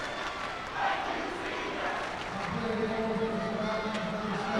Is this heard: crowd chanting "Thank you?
yes